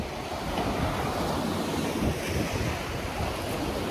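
Ocean surf rolling onto Bermuda Beach, a steady broadband wash of breaking waves with wind buffeting the microphone, continuous and fairly loud with no voices.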